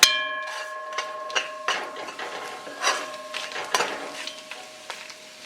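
Lobster callaloo soup stirred in a pot: a spoon knocks and scrapes against the metal in a run of distinct clanks and clinks, over a light bubbling sizzle, with no talking.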